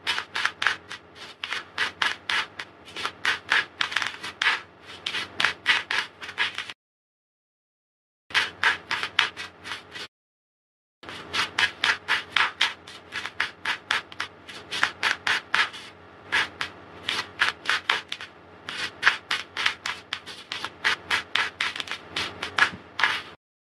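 A deck of tarot cards being shuffled by hand in repeated riffling bursts, close and steady, with two short pauses between rounds.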